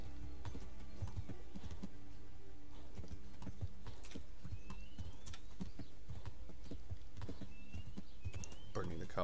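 Video game horse hooves clip-clop steadily at moderate volume beside scattered bird calls and cooing, while a person talks over the scene.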